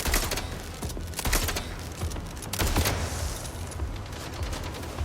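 Gunfire in the PS5 game Mindseye: sharp shots crack out in uneven clusters, some loud bursts standing out above a busy, noisy background of continuing action.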